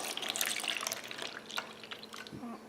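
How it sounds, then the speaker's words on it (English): Milk pours into a bowl of beaten eggs for French toast, a short soft liquid splash and trickle heard up close, with no talk. "I'm going to add some milk."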